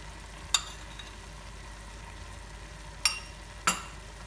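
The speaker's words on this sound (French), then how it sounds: "Et voilà, on mélange le tout." A spoon stirs a beef stroganoff mixture of beef, cream and ketchup in a pan, with three sharp, faint clinks of utensil on metal spaced over a soft low sizzle, with no voices.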